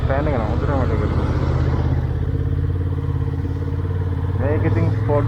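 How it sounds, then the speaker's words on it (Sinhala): A Honda Hornet sport motorcycle engine runs steadily with a low rumbling drone and some clatter, while a person talks over it for most of the stretch. "මේක ඉතින් ස්පෝර්ට් බයික් එකක් තමයි."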